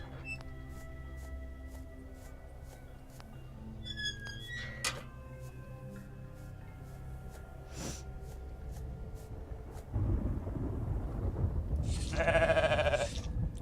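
A goat bleats in a video game, a short tonal cry near the end over a layer of game music and ambient sound, with no talking.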